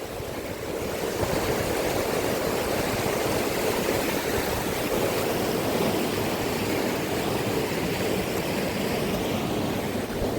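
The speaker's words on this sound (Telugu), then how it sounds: "వాటర్ ఎలా వెళ్తుందో చూడండి." Cyclone floodwater rushing across farm fields after Cyclone Montha, a steady, loud, broadband roar of moving water that holds unbroken throughout, with no voices.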